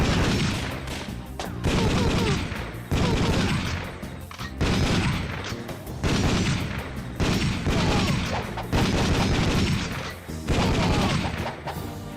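Bursts of rapid gunfire in the VR light-gun game Time Crisis hit an enemy, about seven loud volleys of roughly a second each separated by brief pauses, harsh and booming throughout.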